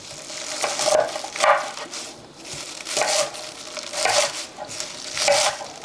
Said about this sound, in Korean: 1cm 정도로 썰어 보겠습니다